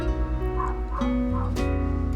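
A neighbor's dog gives a few barks and a whimpering yip in the background, spaced through the short stretch over a constant tonal bed.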